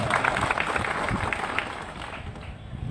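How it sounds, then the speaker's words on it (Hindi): An outdoor crowd at a DJ union meeting claps in honor of a speaker, a brisk, uneven burst of hand clapping at moderate volume lasting about three seconds. "ताली बजाकर सम्मान करो न बाबा।"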